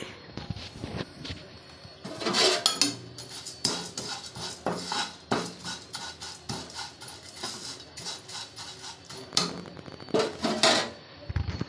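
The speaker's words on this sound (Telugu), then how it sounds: "అటుకులు వేయించుకోవాలి, బాగా వేయించుకోవాలండి" Poha (flattened rice) being fried in a little oil and stirred in a pan, with repeated irregular metallic clinks and scrapes of the spoon against the pan over a soft frying hiss.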